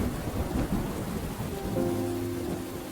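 Heavy rain pours down steadily during a thunderstorm while low thunder rolls and rumbles beneath it, filling the whole stretch with dense, continuous noise.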